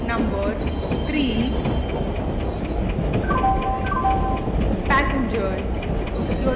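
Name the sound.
express passenger train arriving at platform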